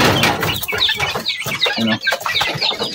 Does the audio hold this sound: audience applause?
no